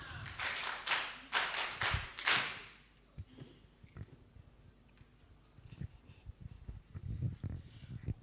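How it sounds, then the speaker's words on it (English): Audience clapping for a presenting team at a Uganda Bureau of Statistics event, a short burst of several hands in the first few seconds, then scattered taps and soft room noise with faint voices. "Let's clap for this team."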